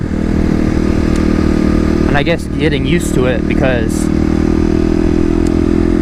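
A 2018 Kawasaki KLX250 dirt bike engine drones loudly and steadily throughout, revved and held high during urban off-road riding, with someone speaking briefly over it midway.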